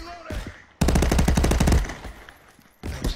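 Loud automatic gunfire from the VR shooter Contractors on Meta Quest: a rapid, close burst of rattling shots lasting over a second, with shorter bursts before and after.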